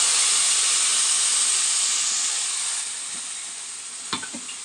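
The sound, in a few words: whole spices (cinnamon, cardamom, clove) sizzling in hot oil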